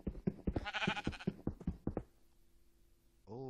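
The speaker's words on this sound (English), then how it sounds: "I just found a sheep. In a cave." A sheep bleats in the Minecraft video game, found inside a cave: a string of quick, wavering bleating pulses for about two seconds, followed by a quiet stretch and a short rising tone at the end.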